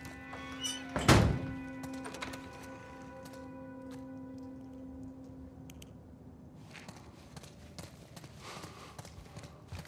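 A door in The Last of Us Part 1 shuts with a single loud, heavy thunk near the start, then quiet game ambience with faint rustling follows.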